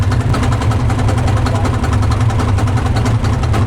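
A 2007 Harley motorcycle fitted with a turbo diesel John Deere engine runs steadily, a loud, close, low throbbing idle with constant rhythmic pulses and vibration.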